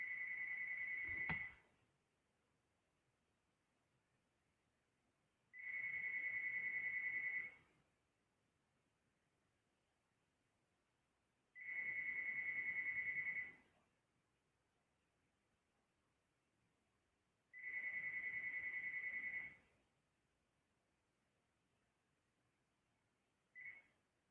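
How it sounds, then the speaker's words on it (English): A telephone rings in a quiet room, with four evenly spaced electronic ring bursts about six seconds apart, each lasting close to two seconds, clear and steady, then the start of a fifth. "I'm sorry, the phone just rang there."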